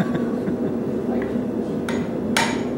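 Hammer ringing against metal at a blacksmithing demonstration, a few sharp bright strikes over a steady hum of shop noise in the background.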